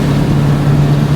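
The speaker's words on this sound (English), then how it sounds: "let off the gas a little to shift, and there we are, cruising in third gear, 60 miles an hour" A 1971 Volkswagen Type 3 air-cooled engine droning steadily as the driver eases off the gas to shift into third at about 60 mph, a loud, even low hum mixed with road and wind noise.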